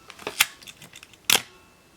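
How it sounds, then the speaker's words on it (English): A Kalimar KX7000 35mm film SLR camera with a curtain-type shutter fires and winds on, giving a few sharp mechanical clicks and a brief whirring clack of the film transport, close and crisp with no talking. "If we watch over here, we can see the film transport working."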